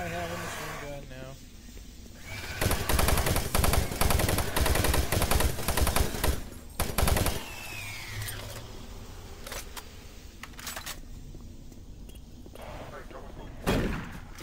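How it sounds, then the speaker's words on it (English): Automatic gunfire from a machine gun in the sci-fi shooter Doom 3, bursts of rapid shots from about 3 to 7 seconds and a short burst near the end, with game ambience and sound effects between. "I have a machine gun now."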